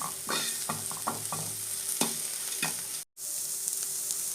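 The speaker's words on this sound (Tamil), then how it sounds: "வெங்காயம் வந்து நல்லா வதங்க விட்டுக்கலாம்" Sambar onions with salt sautéing in a pan, a steady close sizzle broken by a run of scraping stirs from a spatula, then a split-second dropout before the frying carries on alone.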